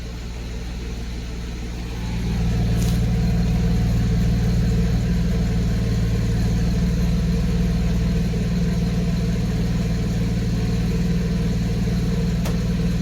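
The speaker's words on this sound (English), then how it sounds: "You kind of can hear each and every cylinder firing." A 1991 Mercedes 190E idles after a lifter replacement, a steady, even low hum with a smooth exhaust note that steps up slightly in loudness after about two seconds and then holds constant, close up with no talking.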